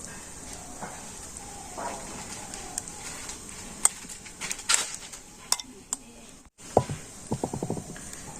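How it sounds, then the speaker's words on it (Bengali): A spoon spreads and levels a carrot mixture in a pan greased with white oil, giving scattered light scrapes and metallic clinks, with a quick run of taps near the end, all at close range against a quiet background. "চামচ দিয়ে আমি এই উপরটা একটু সমান করে দিচ্ছি"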